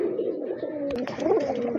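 A green-necked Giribaz pigeon gives a low, rolling coo close by, loud and continuous across the short stretch with a slight rise near the end.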